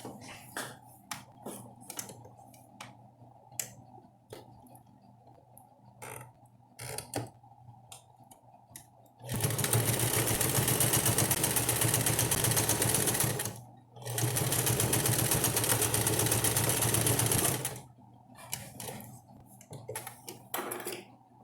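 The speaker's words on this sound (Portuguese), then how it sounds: "Então eu vou voltar para a máquina de costura, esticar e fechar essa partezinha de cima aqui que ficou aberta." A sewing machine stitches stretched elastic closed on a fabric bandana bib in two long, loud, steady bursts with a brief pause between, framed by quieter handling clicks and ticks before and after.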